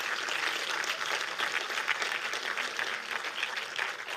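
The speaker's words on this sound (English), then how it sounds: "Give a massive round of applause for all the guys who have organized the event" A crowd at an event breaks into loud, sustained applause for the organizers, dense clapping holding steady throughout with no pauses.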